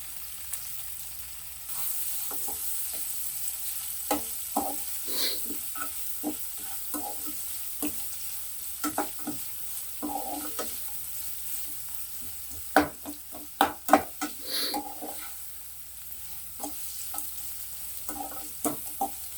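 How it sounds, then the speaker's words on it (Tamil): Onions sizzle softly over high flame in a hot pan, sautéing toward golden for tomato rice, while a utensil stirs and scrapes, with irregular clinks and scrapes over the steady frying hiss. "நல்லா கொஞ்சம் ஃப்ளேம் ஹையில் வச்சு வெங்காயம் நல்லா கோல்டனாக வதங்குற அளவுக்கு வதக்கி விட்டுறலாம்"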